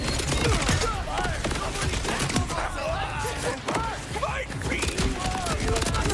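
Weapon gunfire in the Borderlands video game, dense rapid shots with whistling ricochet-like tones and scattered impacts, steady and loud throughout the clip.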